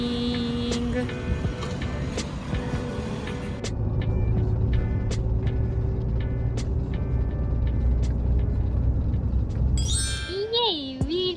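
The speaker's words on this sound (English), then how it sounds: "Bus is coming." A bus pulls up to a stop near Mt. Aso in Japan, engine rumbling low and steady, with chime dings and a short electronic announcement tone near the end; faint voices around.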